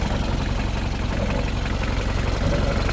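A Mitsubishi 4D56 turbo diesel engine, abandoned for ten years, idles steadily with a loud, even low rumble and rapid knocking pulses, heard close up and with no talk.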